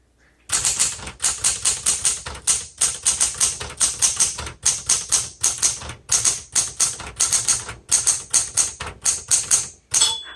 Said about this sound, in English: this is an excellent typing machine